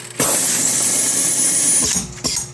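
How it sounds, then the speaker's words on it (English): A sleever machine runs a brief mechanical whir as it feeds and cuts shrink film to length, ending with a couple of sharp clacks from the cutter, close and clear. "So you can see it cuts the film the perfect distance."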